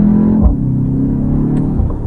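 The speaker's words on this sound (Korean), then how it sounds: "바꾸면 지금처럼 배기 사운드가 굉장히 잘 살아나는 것도 느낄 수가 있죠." A BMW X1 M35i xDrive in sport mode gives a low, steady exhaust drone with a small blip early on, heard from inside the moving car and holding a constant level for two seconds.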